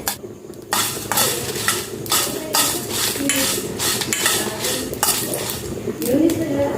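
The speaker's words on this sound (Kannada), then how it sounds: "ಈಗ ಸಾಸಿವೆ ಎಲ್ಲ ಚಟಪಟ ಆಯಿತು" Mustard seeds splutter in hot oil in a pan for a mango curry, with repeated sharp crackling bursts and light metallic clinks at close range.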